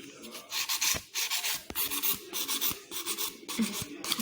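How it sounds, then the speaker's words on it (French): Builder gel on fingernails being sanded with a file, close scratchy rubbing strokes in quick uneven bursts with short pauses between them, fairly loud and with no talk. "on va maintenant poncer avec le chiffon"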